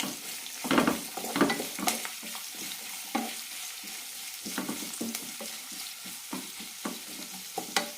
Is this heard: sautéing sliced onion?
yes